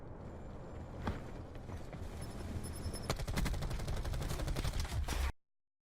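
Gunfire in the video game Call of Duty Black Ops 4: a rapid string of loud automatic shots over a constant noisy game backdrop, with an isolated shot early on and a steady burst in the second half before cutting to silence.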